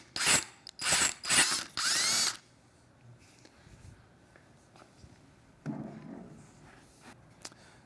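A power drill with a 13/64 bit enlarges a hole during installation of a tracker handlebar kit on a Triumph Street Twin. Four loud, close whirring bursts come in quick succession, followed by quieter handling noises and a brief fainter whir.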